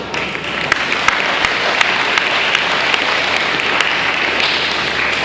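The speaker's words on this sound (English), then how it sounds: "I think they all deserve a clap," Applause at a speech, an audience clapping steadily at moderate volume, with a few sharp individual claps standing out from the continuous patter.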